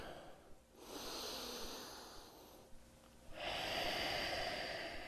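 Slow, deep breaths during a held yoga pose, heard up close: a long airy inhale-exhale, a brief pause, then another strong, noisy breath that continues to the end.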